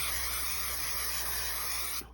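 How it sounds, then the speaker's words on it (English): A continuous aerosol hiss of 3M Craft Mount spray adhesive lasting about two seconds, close and steady, then cutting off abruptly. "And we'll give that a spray. I'm using Craft Mount by 3M."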